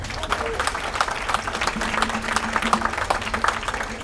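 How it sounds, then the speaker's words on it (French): A crowd applauds warmly, dense overlapping clapping sustained throughout, with faint voices mixed in. "donc on les applaudit très très fort"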